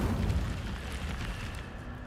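An Incendio fire spell cast in Hogwarts Legacy, a short whooshing burst of flame with a low rumble that fades over about two seconds.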